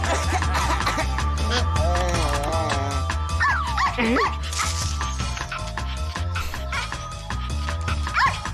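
Cartoon dog barking and yipping in the video game Neighbours Back From Hell, a run of repeated barks and whimpers over a steady music and game-sound bed throughout.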